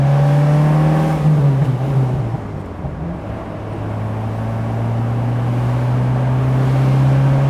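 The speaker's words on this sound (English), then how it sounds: "But I just can't get enough of that sound of this twin cam. Listen to it." A 1987 Alfa Romeo Spider's twin cam engine drones loudly from inside the car, the note sagging as the revs drop off the throttle, then climbing steadily as it pulls again.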